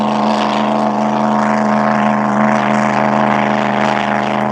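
A 5-litre hyper class racing hydroplane engine drones steadily at high power, a loud, continuous rasping roar with strong harmonic whine that holds throughout without pause.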